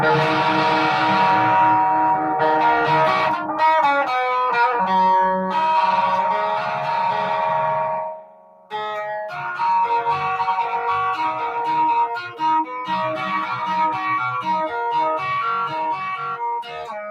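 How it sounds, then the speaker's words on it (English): A heavily distorted electric guitar, a cheap Telecaster, plays sustained, buzzing chords and notes with a thick, saturated tone, dropping out briefly midway before resuming, with no voices. "You must never let the distortion cloud the notes that you're playing."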